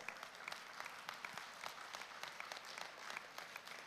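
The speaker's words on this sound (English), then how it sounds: "Please, a round of applause." Faint, steady applause from an audience at the opening ceremony of a World Trade Centers Association general assembly, dense clapping sustained evenly throughout with no voices over it.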